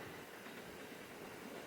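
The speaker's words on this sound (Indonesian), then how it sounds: "ada kereta ya" A train passes at a distance, a faint, steady rumbling wash of rail noise with a light hiss, heard alone without talking.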